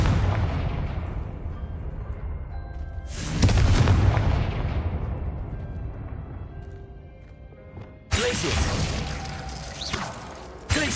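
Fire spell explosions in the Hogwarts Legacy video game, two loud booming blasts each bursting in sharply and decaying over several seconds, over a continuous low rumbling game background.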